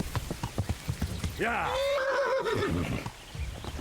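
A horse in the medieval game Kingdom Come: Deliverance clip-clops briefly and then lets out a loud, wavering neigh, with hoofbeats and a voice in the background.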